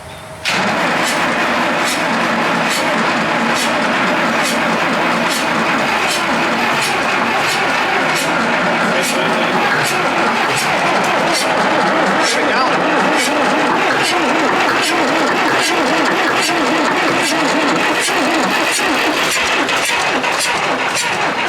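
An abandoned diesel engine cranks over on a swapped starter, a loud continuous churning with a steady rapid rhythmic chug of compression beats that runs unbroken for about twenty seconds, close up and alone.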